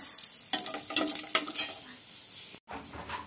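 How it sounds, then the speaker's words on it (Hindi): Whole spices frying in hot oil for a mutton curry, a quiet crackling sizzle with a few louder pops and stirring scrapes, briefly cut off near the end. "इसमें हम खड़े मसाले को दे देते हैं।"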